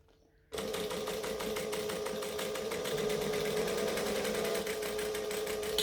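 A sewing machine top stitching fabric for a wristlet starts abruptly after a brief quiet moment, then runs steadily with a fast, even mechanical whir and rapid needle ticking, close and continuous, with no talking.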